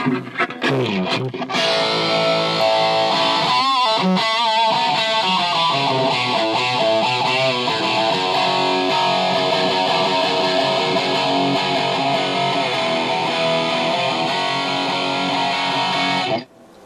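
Heavily distorted electric guitar playing through the dirty channel of a Krank Revolution amp, a few choppy strummed bursts giving way to a long, loud sustained chord that rings out before cutting off.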